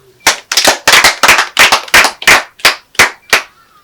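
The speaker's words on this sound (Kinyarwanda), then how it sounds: "Nongeye kubashimira rwose, mwiha amashyi" Clapping at a festive neighbourhood celebration in Rwanda rings out as about ten loud, sharp claps in a steady, even rhythm, close by and otherwise quiet.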